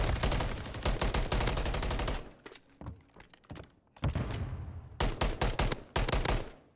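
Rapid bursts of gunfire in a tactical first-person shooter match, near and loud, with sustained automatic strings, a pause, then more clustered shots toward the end.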